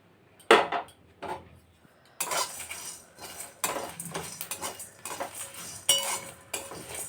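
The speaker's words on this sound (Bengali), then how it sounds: "কড়া বসিয়ে দিয়েছি, কড়া গরম হয়ে গেছে। মশলাগুলো এবার দিয়ে দেব," Whole spices, including cumin and fennel, are tossed and stirred in a hot kadai, giving close metallic clinks, scrapes and rattles in irregular bursts with no talking.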